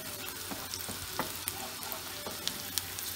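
Minced meat and onions frying in a pan, a constant sizzling hiss broken by regular scraping stirs and small clicks of a utensil, close up and with no speech.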